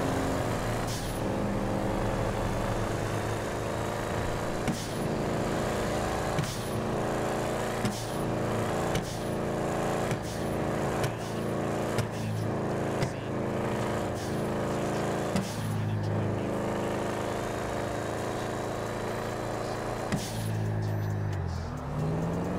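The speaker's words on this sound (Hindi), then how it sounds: "रेस में छोड़ रहा हूँ, कभी दे रहा हूँ कभी छोड़ रहा हूँ, बैक फायर आ रहे हैं उससे।" A modified car in GTA 5 gameplay revs repeatedly with the throttle blipped on and off, its steady engine drone broken by sharp backfire pops at regular intervals throughout.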